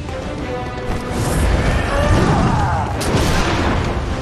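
A boss's heavy gunshot in the video game Bloodborne booms amid dense, loud game noise, a thick crashing blast that swells and lingers over a few seconds.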